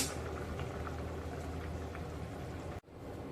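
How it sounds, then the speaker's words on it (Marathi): A pot of fish curry made with Agri masala bubbles at a steady simmer close by, a continuous soft gurgling that cuts off abruptly near the end. "एकाद मिनिटभर उकळी येऊन झालेली आहे"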